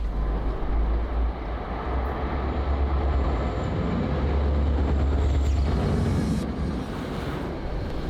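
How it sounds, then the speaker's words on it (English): A train rumbles past close by, a steady heavy low roar with rattling carriages that holds for several seconds before easing slightly. "There's a train coming right now."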